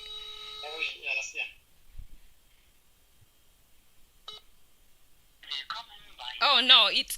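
A phone call going through before reaching voicemail, with a short electronic ringing tone and beeps at the start, then near-silence, a brief blip, and a voice speaking over a final automated tone.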